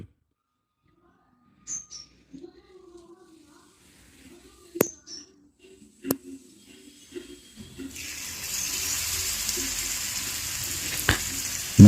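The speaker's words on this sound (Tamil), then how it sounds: "எண்ணெய் காஞ்சதும் நம்ம ஊற வச்சுருக்க மீனை எடுத்து அப்படியே நம்ம கல்லில் போட்டுக்கலாம்." Marinated kadal vavval fish is laid into hot oil on a griddle. After a few soft clinks and quiet handling, a steady close sizzle starts and holds.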